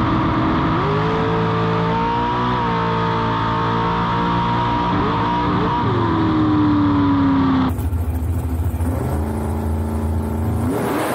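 Drag race car at an IHRA event, heard as a loud, close engine roar that climbs in pitch with several shifts and then drops away sharply near the end.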